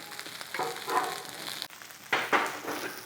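Scrambled eggs sizzle in a pan with no butter underneath, a quiet crackling fry that rises and falls in soft bursts, with a sharper burst of sizzling near the end.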